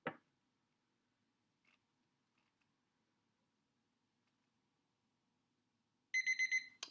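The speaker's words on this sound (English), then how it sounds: "So that is our timer." A kitchen timer alarm sounds in a rapid burst of bright electronic beeps near the end, after long near-silence, going off during a dialysis tubing demonstration with iodine and starch.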